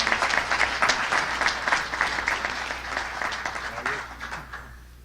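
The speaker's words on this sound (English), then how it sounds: "how about one more round of applause for all of our inductees this evening?" Sustained applause from an audience at an awards ceremony for inducted players, dense steady clapping that holds strong and then gradually thins and fades out.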